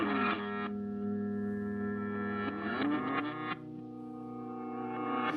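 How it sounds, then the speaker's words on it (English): A reversed guitar drones in smeared, swelling notes that seem to fade in rather than strike, washed in echo and effects, with no talking. "Oh, it sounds like a reverse guitar."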